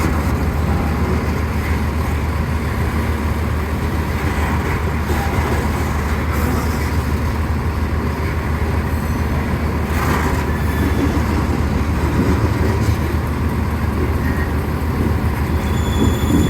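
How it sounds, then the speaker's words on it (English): A train rolls steadily through a railroad curve, its wheels grinding with a continuous loud rumble and thin high squeals rising now and then over the whole stretch. "different wheel profiles make different sounds at different speeds."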